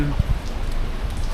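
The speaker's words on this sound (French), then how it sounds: "Ouais, il pleut moins là." Rain falling outdoors in Charleston, a continuous wash of patter on surfaces with a few louder low knocks near the start.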